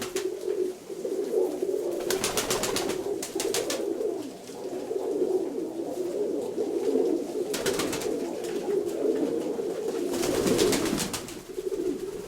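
Young pigeons in a dovecote coo in a steady low warbling murmur throughout, with brief bursts of wing flutter or scuffling at intervals, close and fairly loud.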